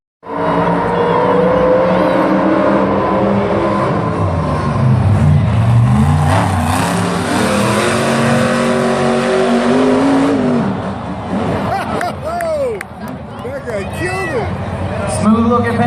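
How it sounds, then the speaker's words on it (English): Monster trucks race in an arena at Monster Jam World Finals, Las Vegas: loud roaring, revving engines rise and fall across the whole stretch, with an announcer talking over them and crowd noise. "Smooth looking pass for Lee O'Donnell and the VP Racing Fuels mad scientist"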